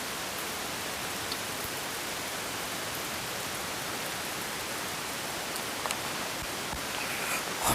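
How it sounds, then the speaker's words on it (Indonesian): Heavy rain pouring down at night near a hospital building: a dense, steady hiss of downpour on surfaces, unbroken for the whole stretch with a few louder drips near the end and no voices. "Ini hujannya lumayan deras ya."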